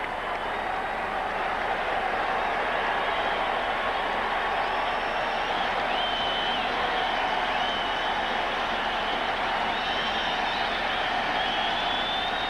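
Yankee Stadium baseball crowd during a 1999 American League Division Series playoff game between the Rangers and Yankees, a steady, dense roar of many voices and cheering that holds loud and even throughout.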